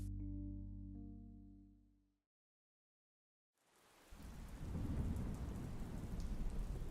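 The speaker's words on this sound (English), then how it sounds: "The rain pounded hard towards the poisoned earth" Heavy rain pounding down in a steady, dense roar that swells in after a few seconds of near silence, preceded by a fading sustained musical tone.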